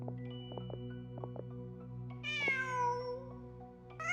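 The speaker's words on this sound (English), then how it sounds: "Just a cat." A cat meows in the Genshin Impact video game, a rising then falling cry heard once clearly and starting again at the end, over a steady game music bed with soft plucked notes.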